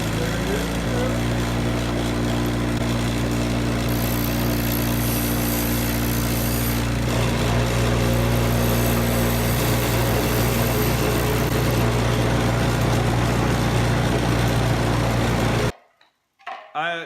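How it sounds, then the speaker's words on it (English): Bench grinder used for sharpening tungsten for TIG welding, its motor humming loud and steady as it spins up to full speed, a sustained whine with a higher tone joining partway through, then cutting off near the end. "Let the grinder reach full speed."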